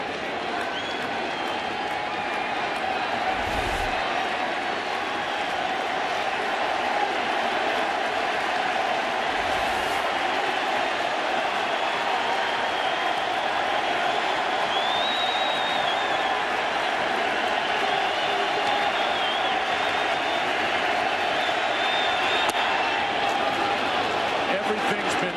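Large stadium crowd at World Series Game 5 cheering and applauding in a steady, dense roar that fills the whole stretch, with an announcer talking over it.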